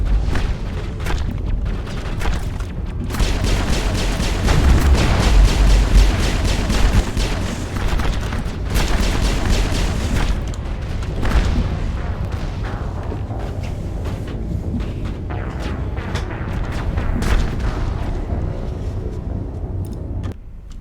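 Booming missile turret explosions from the Mass Effect video game, with dense repeated blasts and heavy low rumble continuing throughout, loudest around the middle and again near the end.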